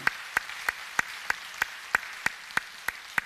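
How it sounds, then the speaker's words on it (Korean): In a church service, a congregation welcomes an elderly pastor with slow, evenly spaced claps, about ten sharp hits in steady rhythm over a quiet background. "이성민 목사님 잠깐 우리 박수로 한번 환영하겠습니다."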